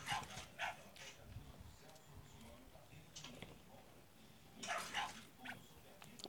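A dog barks in several short bursts, loud and near, in the video game Free Fire, separated by quieter stretches of game noise.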